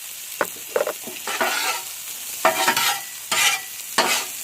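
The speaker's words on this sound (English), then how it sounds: "We'll cook the peas and carrots and the onions" Peas, carrots and onions cook in a pan for Japanese fried rice, a steady sizzle broken by several sharp bursts of stirring and scraping, close and fairly loud, with no talk.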